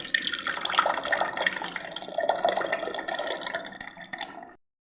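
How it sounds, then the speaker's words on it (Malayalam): Liquid is poured into a blender jar, running steadily for about four seconds with a splashy, gurgling rush, then cutting off into silence. "ജാറിലേക്ക് അങ്ങ് ഒഴിക്കുക"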